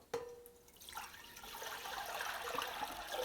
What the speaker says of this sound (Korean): 그러면 요 솥에다가 2리터를 부어주세요.